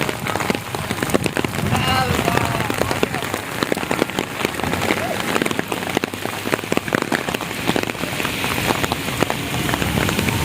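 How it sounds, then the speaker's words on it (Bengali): Heavy rain pours down at Haripur bridge in Sylhet, a dense, loud patter of drops hitting surfaces with a faint voice now and then beneath it. "অঝোর বৃষ্টি দিনমান বৃষ্টি এখানে বৃষ্টি সারাদিন থাকে"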